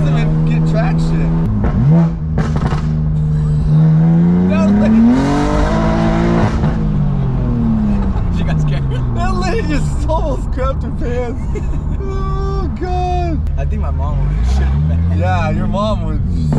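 An 800hp BMW M2 engine roars and revs hard with rising and falling pitch as the wheels spin on a freeway, loud and close inside the car, with people talking over it.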